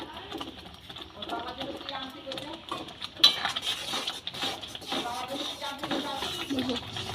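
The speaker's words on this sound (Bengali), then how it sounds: "কাজু কিশমিশ দিয়ে আমের জেলিটাকে খুব ভালো করে নাড়তে হবে" Mango jelly with cashews and raisins is stirred in a pot, with a spoon clinking and scraping against the metal again and again. A voice can be heard in the background.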